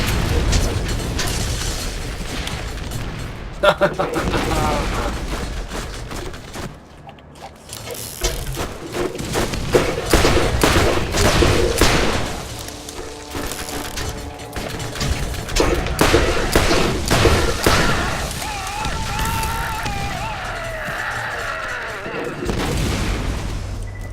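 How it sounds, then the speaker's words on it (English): Airburst mortar fire in the video game Borderlands, with repeated booming blasts and mechanical clanks and ratcheting layered over game music and effects throughout. "Mortar. Airburst mortar."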